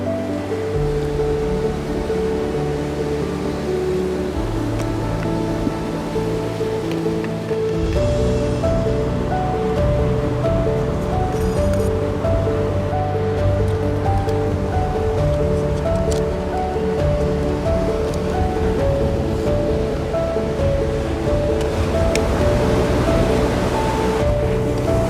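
Ocean waves wash against the shore in a continuous loud surf, with wind buffeting throughout and no talk.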